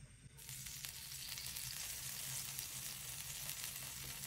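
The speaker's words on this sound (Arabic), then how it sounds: "وهلا رح نخلي المقلية تحمى شوي" Frying pan heating up before halloumi goes in, a continuous faint hiss and sizzle starting just after a brief quiet moment.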